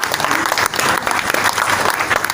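At a community gathering, a crowd keeps up vigorous, sustained clapping, with the dense, slightly pulsing applause continuing unbroken from start to finish.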